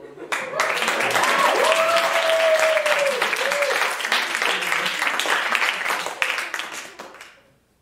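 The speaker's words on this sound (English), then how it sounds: "Now please clap again." An audience at a Mexican music performance claps loudly and steadily for several seconds, with a voice calling out briefly over the applause before it thins and dies away.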